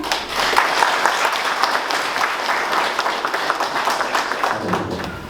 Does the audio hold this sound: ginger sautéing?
no